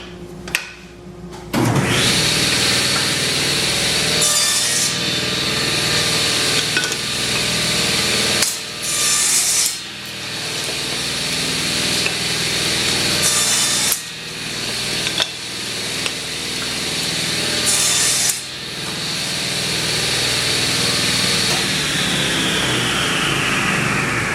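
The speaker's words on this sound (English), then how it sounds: "So we're going to take and lay these down on the saw." A table saw cuts tenon cheeks on wooden cabinet rails: the motor spins up, then a steady loud whirring roar continues, broken by several brief dips and surges as pieces are fed through the blade, with no talking.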